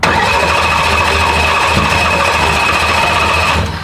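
A car engine that is apparently running with no injectors working runs loud and steady at close range, a continuous rough mechanical roar with no break.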